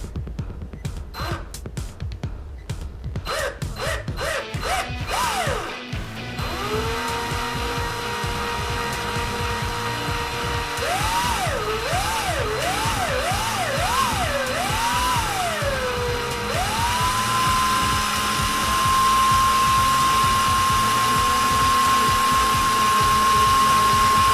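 An electric drill twisting wire winds up and whirs, its pitch rising and falling in several short bursts before settling into a steady high whine, near and loud.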